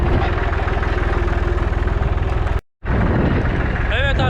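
A tractor engine chugs steadily nearby with a loud, rhythmic idle while sowing alfalfa, briefly cutting out before resuming.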